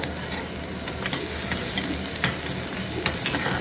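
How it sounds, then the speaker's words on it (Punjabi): Red onion frying for vegetable soup, a faint continuous sizzle broken by regular scraping stirs of a spoon against the pan, close and fairly quiet. "ਇਹ ਲਾਲ ਪਿਆਜ਼ ਹੈ ਜਲਦੀ ਗਲ ਜਾਂਦਾ"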